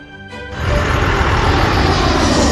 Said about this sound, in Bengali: এটা একটা ফাইটার জেট যা চোখের পলকে শব্দের গতিতে ছুটে গেল